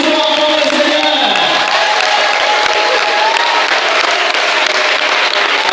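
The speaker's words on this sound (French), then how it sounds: "Applaudissons encore le Seigneur." Congregation applauding in a Cameroonian church service, a dense, loud wash of clapping with crowd noise and voices throughout, steady from start to finish.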